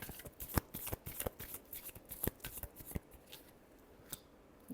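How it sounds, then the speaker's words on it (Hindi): Tarot cards being shuffled by hand, a quiet series of soft riffling flicks and sharp card snaps in an irregular rhythm, close and faint with no voices. "last shuffle"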